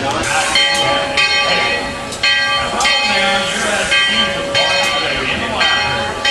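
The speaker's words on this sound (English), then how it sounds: "The train is here now, which is just stopping soon." The Dollywood Express steam train rumbles and hisses steadily at close range as it pulls into the station, with a bell ringing repeatedly and some voices beneath the mechanical noise.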